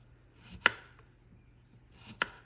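Big tomatoes sliced at an angle on a cutting board, two crisp knife chops about a second and a half apart, close and fairly quiet against a faint background hum.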